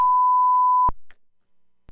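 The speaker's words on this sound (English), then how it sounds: "you're the beautiful 1 kilohertz sine wave" A 1 kHz sine wave test tone, used while testing audio for an SP-1200 sampler build, holds steady and loud for almost a second, then cuts off abruptly into near silence with faint clicks.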